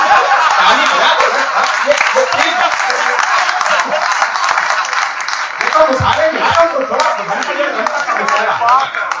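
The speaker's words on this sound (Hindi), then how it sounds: "ताली बजा दो" An audience at a Hindi comedy poetry show in Kolkata claps and laughs steadily, a dense wash of applause and chuckles mixed with chatter.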